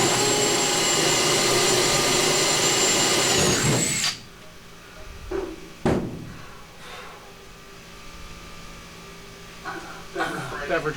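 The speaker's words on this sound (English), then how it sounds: "I'm not going to make you watch me drill all these holes" A power drill whines loudly and steadily for about four seconds, then stops, followed by a few sharp knocks and clatters in a quieter room.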